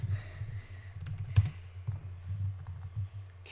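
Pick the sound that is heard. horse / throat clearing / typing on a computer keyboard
typing on a computer keyboard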